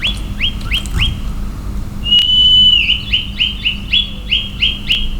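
A whistle calls a horse in the video game Skyrim, one loud sustained note in the middle, set among a series of short, rising, chirp-like whistles that repeat steadily before and after it.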